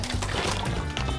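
Rice is swished and rinsed by hand in a bowl of water, a continuous close watery sloshing and swirling with no speech over it.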